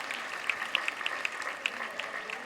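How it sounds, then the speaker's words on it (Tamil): An audience at a women's day event gives loud applause, a steady crowd of clapping with a few sharper individual claps standing out near the front. "அத்தனை பேருக்கும் ஒரு பலத்த கைத்தட்டலோடு நீங்கள் பாராட்டை சொல்ல"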